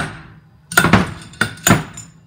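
A hammer whacks a machine part to free a dowel pin from its seat in a workshop, three sharp metallic strikes landing close and loud with a ringing tail, a quiet pause before the first and a gap between the second and third.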